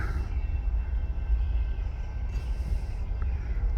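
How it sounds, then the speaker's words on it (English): A long train rumbles past at a steady, low roar with faint squeals over the rails, continuous and without anyone speaking. "That's a long train, though."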